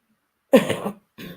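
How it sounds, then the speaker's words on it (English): A single person coughs once sharply, then gives a shorter second cough after a brief pause, close to the microphone in a quiet room. "Excuse me for coughing."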